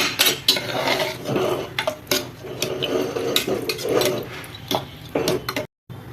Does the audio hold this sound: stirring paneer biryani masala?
yes